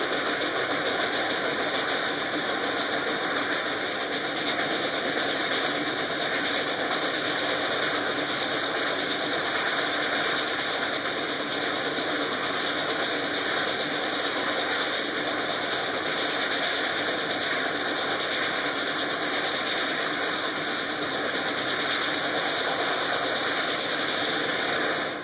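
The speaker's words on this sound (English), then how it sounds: "The engine's cruising along now." Reading & Northern 2102 steam locomotive cruising along at speed, heard from the cab as a steady, loud, unbroken roar and rumble with a constant mechanical drone and no pauses.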